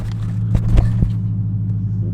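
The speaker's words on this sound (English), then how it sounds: "Engine has been started." A Dodge Charger Hellcat idles after a remote start, a deep steady engine rumble with a few sharp clunks early on, continuing low and even with no talking.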